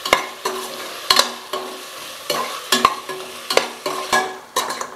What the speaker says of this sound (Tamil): நல்லா மசிய வதங்கட்டும்.